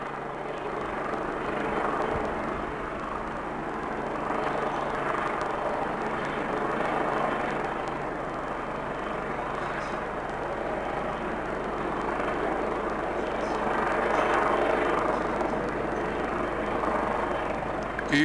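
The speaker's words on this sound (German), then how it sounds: "der Hubschrauber zum Weltuntergang" A helicopter flies over Cologne's Südstadt with a continuous broadband rotor and engine roar that swells and fades gently over the whole stretch, fairly distant and steady.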